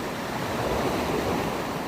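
Sea waves wash continuously on a beach in Jamaica, a broad steady roar of surf close by with some wind rumble and no voices.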